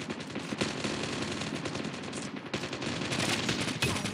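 Rapid automatic gunfire from the mobile shooter game Call of Duty: Mobile rattles in dense, loud bursts, with a brief pause partway through before the shooting resumes.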